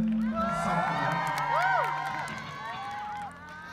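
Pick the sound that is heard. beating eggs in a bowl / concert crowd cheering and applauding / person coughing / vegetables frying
concert crowd cheering and applauding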